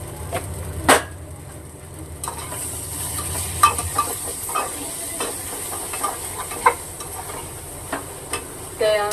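Onions with garam masala, red chili powder and salt stirred in a pan for egg bhurji: a soft background sizzle broken by repeated scraping strokes of the spoon, close and irregular, with no talking.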